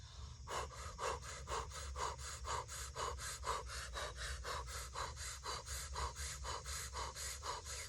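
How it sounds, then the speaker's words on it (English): Breath of fire during a Kundalini yoga class: rapid, rhythmic, forceful nasal exhalations pulse steadily at roughly three per second for several seconds, close and continuous, with no talking. "And now breath of fire."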